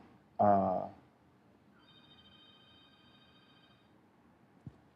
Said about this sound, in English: I don't know why this phone ringing, but I'm not gonna answer it.